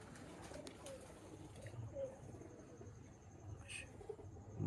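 Large Teddy pigeons cooing in a loft, soft low coos and a few chirps over quiet background murmur, fairly faint and close.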